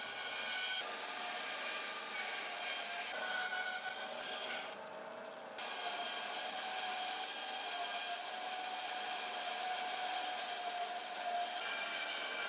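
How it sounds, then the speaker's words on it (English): A bandsaw with a worn blade cuts a guitar body blank along a traced outline, giving a steady whining hiss that drops out briefly midway before resuming. "I'm going to go over to the bandsaw and get it all cut out"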